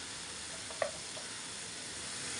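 Kavla wild leafy vegetables sautéing in a pan give a faint steady sizzle with one brief stirring scrape, no voices.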